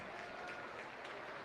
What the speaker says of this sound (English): Give her a big round of applause on her breed champion.